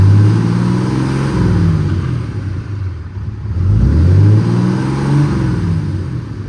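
The 6.7 Cummins diesel in a 2016 Ram 2500 idles with a deep, close rumble that rises and falls in pitch, easing off briefly midway before revving back up, with no one talking.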